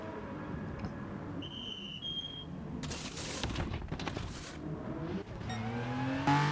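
Race car in the GT Sport video game pulling out of the pits during a race, its engine droning steadily and building toward the end, with sharp crackles and brief tones over it.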